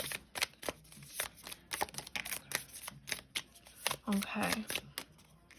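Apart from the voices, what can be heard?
shuffling tarot cards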